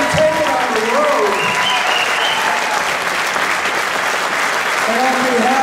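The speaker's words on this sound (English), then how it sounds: "let's have one more round of applause for these 2 gentlemen" Lecture audience breaks into sustained applause for two guest speakers, a steady loud wash of clapping with a few voices audible underneath.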